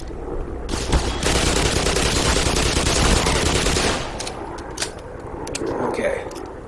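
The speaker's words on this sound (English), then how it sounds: "I just one-shot him with a Magnum." Rapid Magnum revolver gunfire in the video game Black Mesa, loud and dense for about three seconds, then a few separate shots and game noise after.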